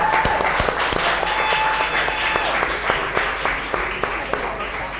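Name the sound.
audience applause for a chef in a cooking showdown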